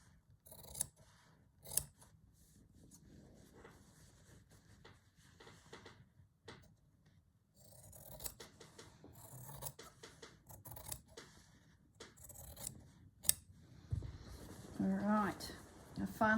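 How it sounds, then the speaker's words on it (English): Scissors snipping out a fabric background piece for English paper piecing, a quiet close series of cuts and rustles, uneven and intermittent, with sharper snips and handling noise near the end. "just cut my background out."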